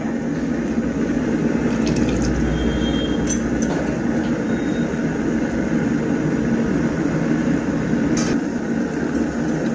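Water poured into a pot of mutton curry during cooking, a continuous rushing, splashing flow that stays loud and steady throughout, close up with no voices.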